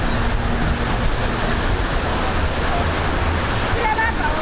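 Steady surf and wind wash over the beach at Pantai Harapan Ammani in Pinrang, a loud continuous roar with constant microphone wind buffeting throughout.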